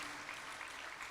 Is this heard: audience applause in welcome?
yes